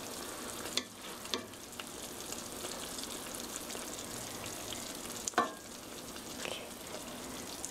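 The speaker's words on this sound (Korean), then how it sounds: "보글보글 끓으면 썰어 놓은 두부 넣어 주세요." Sliced tofu simmering in a bubbling, boiling sauce, giving a steady soft sizzle and crackle throughout, with a couple of sharper clinks or taps near the start and middle, no talking.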